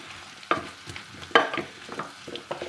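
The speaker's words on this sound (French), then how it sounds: "on mélange pour que le beurre s'imprègne bien avec nos panais pour donner du goût" Parsnips being stirred in melted butter in a saucepan: a spoon scrapes and knocks against the pan in irregular strokes over a soft, quiet sizzle, close and fairly gentle.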